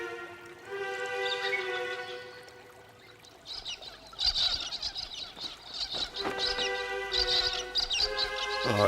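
A gang of birds squawks and chirps in a dense, overlapping chorus that swells and fades, busy chattering calls rising loudly in the later part of the stretch.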